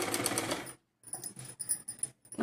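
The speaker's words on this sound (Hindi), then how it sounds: "उसी हिसाब से हमें इसे सिलना है।" A sewing machine stitches a blouse in brief, uneven bursts with a clear stop between them, close and fairly quiet.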